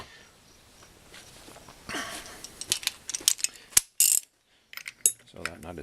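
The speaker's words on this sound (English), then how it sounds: "leave the strap wrench on there. And just, there we go. That was all we needed to loosen that." Strap wrench working loose a nut on a Villiers 9E engine, giving a series of close mechanical clicks and ratcheting creaks with brief metallic snaps and short pauses between.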